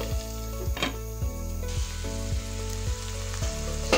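Roughly chopped onions with a pinch of salt sizzle steadily in a pan, a continuous frying hiss broken by a few soft stirring scrapes, close and fairly loud with no talk.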